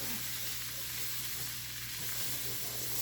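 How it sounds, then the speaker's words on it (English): Flour is stirred into a small amount of grease in a hot pan, giving a continuous quiet sizzle and frying hiss with faint scraping from the stirring and no talking. "We're just going to mix this up a little bit with that little bit of grease that we got in there."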